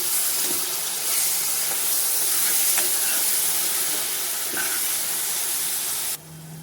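Chopped tomatoes hit hot spices and green chillies in a pan for Dhaba-style garlic palak paneer, setting off a loud, steady steamy sizzle and hiss that runs close and continuous, with a few faint clinks, before cutting off abruptly.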